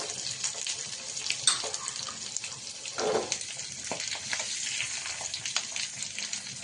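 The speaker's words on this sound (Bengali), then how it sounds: "আমি এই পেঁয়াজটাকে একটু লাল করে ভেজে নেব, ব্রাউন করে" Chopped onion frying in hot oil with curry leaves for a Kerala mor curry, a steady close sizzle running throughout with occasional stirring and faint watery crackle, no voices.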